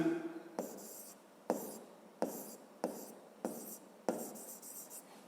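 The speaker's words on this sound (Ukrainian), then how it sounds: "давайте ми тоді запишемо" Notes are written by hand during a physics lesson, with pen strokes in a series of about seven scratchy bursts at a steady pace, close and fairly quiet, and a brief voice at the very start.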